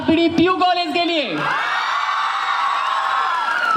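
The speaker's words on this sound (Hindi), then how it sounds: "एक बार जोरदार तालियां आह्वान 2019 के लिए, एक बार जोरदार तालियां आरपीडी पीयू कॉलेज के लिए" A crowd at the Aahvaan 2019 event at RPD PU College breaks into sustained cheering and whooping. It follows a brief raised voice and carries on loud and dense to the end.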